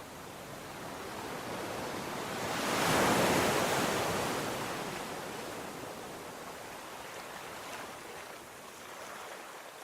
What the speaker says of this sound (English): hear the sounds of waves gently rolling onto the shore